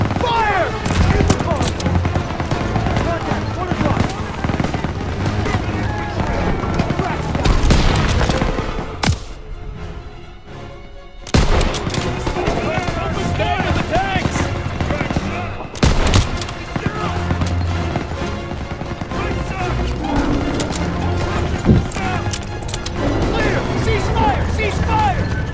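Dense gunfire and explosions rage through a World War II battle in Call of Duty WW2, loud continuous volleys with machine-gun bursts and booms, with a brief lull, and soldiers shout orders over the din.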